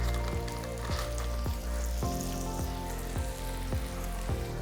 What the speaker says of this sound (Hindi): तो पनीर मैं थोड़ा सा फ्राई करने वाला हूँ बटर में